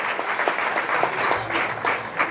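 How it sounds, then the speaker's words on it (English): Audience applause at a youth symposium on industry and wellness, honouring a top-ranked engineering student; steady clapping from a crowd with faint voices mixed in underneath. "Give him a big round of applause, Jai Charan."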